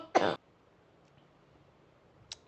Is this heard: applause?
no